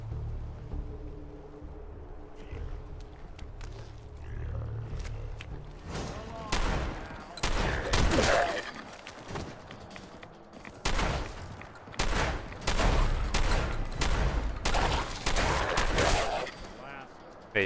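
Shotgun blasts in Fallout 4 combat: after a quieter stretch, a rapid series of loud, sharp booming shots in irregular bursts, some closely spaced, with lingering rumble between them.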